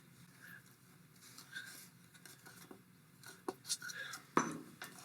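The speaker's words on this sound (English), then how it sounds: "time to add the cream. Let's stir that in." Cream being stirred into caramel sauce in a pot, quiet spoon scrapes and clinks against the pot, growing busier toward the end, with a faint bubbling sizzle underneath.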